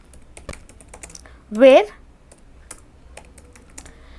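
Light, scattered keystrokes on a computer keyboard while typing an SQL select command, soft clicks spaced irregularly, with a single spoken word breaking in briefly.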